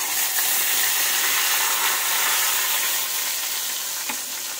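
Whole spices tempering in hot oil for potol dorma, a bright steady sizzle and crackle close by, with faint stirring and a few sharper pops, no talking.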